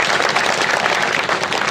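Sustained applause from a political rally audience, dense and steady clapping filling the whole moment at close range with no voices on top.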